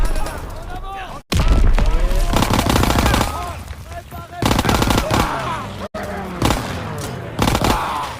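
Call of Duty WWII battle gunfire: bursts of automatic fire and rifle shots crackle loudly and almost continuously, briefly cutting out twice, with shouted voices mixed into the fighting.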